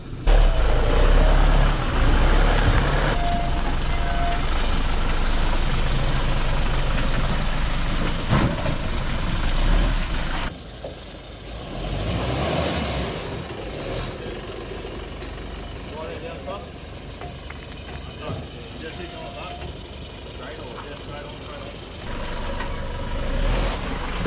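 A modified N80 Toyota Hilux crawls an off-road track, its engine droning and rumbling low and steady throughout. Voices talk over it in places.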